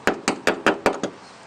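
A knife taps the solid metal underside of a car door, giving six sharp, evenly spaced knocks close up, the last one lighter, with no talking.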